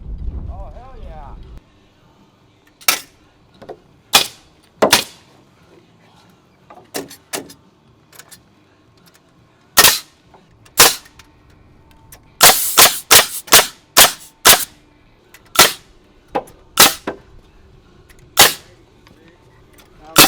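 Pneumatic nail gun driving nails while framing a 2x6 exterior wood wall, sharp loud individual shots fired irregularly, some in quick pairs and clusters, against quiet job-site background.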